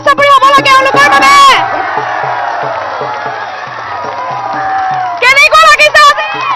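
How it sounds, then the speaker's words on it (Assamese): Student audience cheering and clapping for performers at a live outdoor gathering, a loud crowd roar with shouts and whoops swelling in the middle, bracketed by a voice speaking near the start and end. "খুব সুন্দৰ ডাঙৰকে হাত চাপৰি হ'ব লাগে এওঁলোকৰ বাবে"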